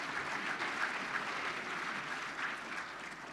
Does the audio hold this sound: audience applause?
yes